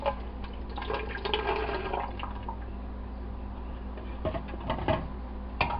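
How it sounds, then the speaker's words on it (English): Water poured into lemon juice for a homemade hair lightener, a steady close liquid trickle and splash running throughout, with a few brief clunks near the end. "So I'm just going to add the water"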